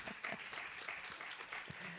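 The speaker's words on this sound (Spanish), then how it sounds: "Denle un aplauso a la hermana Elia" Applause from a church congregation during a sermon, quiet and continuous for about two seconds, with a few sharper claps standing out from the steady patter.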